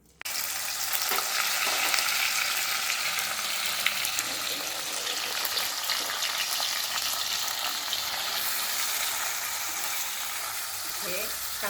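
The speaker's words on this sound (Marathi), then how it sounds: "इथे मी 3 पळ्या तेल टाकणार आहे व तेल तापल्यानंतर हा मसाला टाकणार आहे." Masala for Kolhapuri chicken curry frying in three ladles of hot oil, a dense, steady hiss and crackle that starts abruptly and continues evenly, close up.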